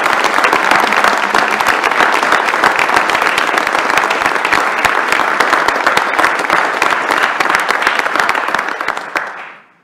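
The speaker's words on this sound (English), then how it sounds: "Let's give Carolyn a round of applause" At a UW System Board of Regents meeting, a room of attendees gives a loud, sustained round of applause for a newly welcomed board member, dense and continuous before fading out at the end.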